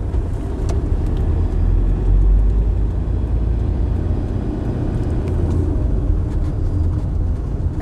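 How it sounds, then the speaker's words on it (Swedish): Heavy road traffic in Gothenburg rumbles continuously, with a deep, dense roar of passing cars and vehicles close by and no break in the flow. "här är det ju rätt galet med trafik alltid"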